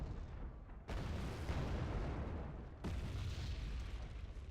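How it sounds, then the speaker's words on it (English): Artillery fire and explosions in the Wargame: Red Dragon strategy game, two heavy booming blasts that erupt suddenly and roll on in a loud, dense rumble with no talk over them. "I want them to stop firing artillery on me."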